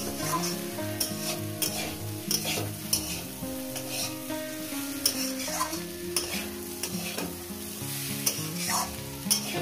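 Mourala fish with drumstick flowers frying in oil and being stirred in a pan: a continuous close sizzle with repeated scraping stirs, mixed with background music.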